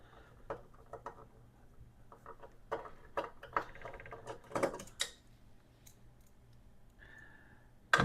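Screws being fastened while an Atari 800 computer is reassembled, an irregular series of small clicks, ticks and scraping rattles close by, with a brief sharper clatter at the end and no talk.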